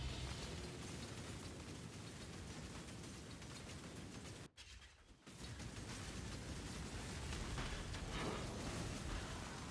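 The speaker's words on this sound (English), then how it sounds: "These massive explosions are even like poison prolifing." Massive poison-spreading explosions in the video game Path of Exile, a dense continuous roar of overlapping blasts and mechanical clatter, broken by one brief drop near the middle before resuming at full intensity.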